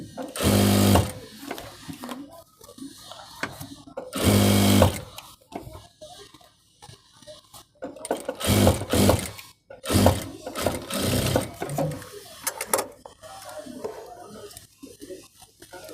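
A domestic sewing machine stitches rubber elastic onto fabric in loud, fast bursts of mechanical whirring separated by pauses, with short stretches of quieter handling between runs.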